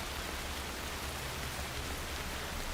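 Steady, soothing rain falls in the video game Death Stranding, a dense even hiss of drops on surfaces with no let-up and no voices over it.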